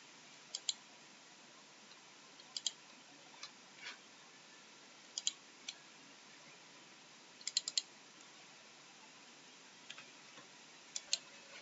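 Faint, sharp computer mouse clicks come singly and in quick pairs or triplets, scattered across a low hiss of room noise.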